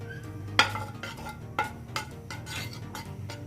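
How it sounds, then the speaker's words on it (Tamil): A spoon clinks and scrapes against a pan while rava kesari of roasted semolina is mixed, with a few sharp metallic knocks over a steady low background hum. "இது கலக்க போகிறேன் நான்."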